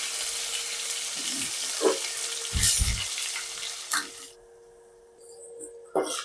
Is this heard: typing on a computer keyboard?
no